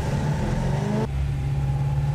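Chevrolet Corvette Coupe's naturally aspirated engine revving on a race track, a steady mid-pitched engine drone that drops in pitch partway through as the revs fall, heard from inside the car with no talking.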